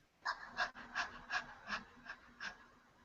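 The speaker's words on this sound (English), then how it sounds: "She's panting like a dog" Rapid dog-like panting comes in seven or eight short, rhythmic huffs, close and fairly quiet, with no talking over it.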